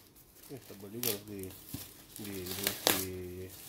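Thick plastic wrapping being pulled off a Shimizu JET-108 BIT semi jet water pump during unboxing, with several sharp crinkling and tearing bursts close by while someone talks over them.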